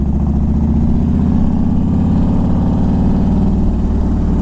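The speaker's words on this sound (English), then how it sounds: "Now I got this bike all warmed up." A warmed-up 2000 Harley Davidson Ultra Classic motorcycle engine runs steadily, a loud, close, deep rumbling idle with an even pulsing beat and no talking.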